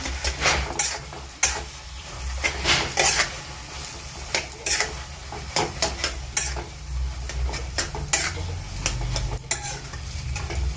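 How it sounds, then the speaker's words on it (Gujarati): Gram flour sheera is stirred in a pan on the stove, with a continuous scraping and clattering of the spoon against the metal and a soft sizzle beneath, steady and close with no talking. "બધું મિક્સ કરી લેશું આ રીતે"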